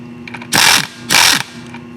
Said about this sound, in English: I got a Whitworth socket on here. See what happens.